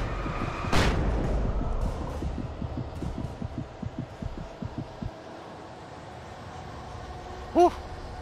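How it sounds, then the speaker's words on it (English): A flashbang grenade bursts in the Alan Wake video game, one sharp loud blast followed by a run of rhythmic low thumps that fade out, with a short bright tone near the end. "Flashbang out."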